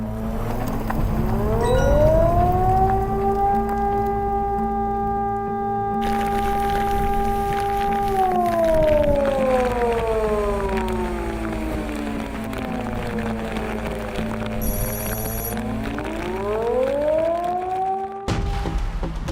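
A loud air raid siren wails in the Busan area for a long stretch, pitch climbing, holding, then sliding down and rising again, with a low steady drone beneath.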